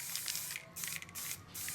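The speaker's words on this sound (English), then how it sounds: "Now I use a very dark spray, so I need to get into every recess" Dark spray paint sprayed from an aerosol can onto a terrain model for tabletop gaming, heard as a series of close, hissing bursts separated by brief pauses.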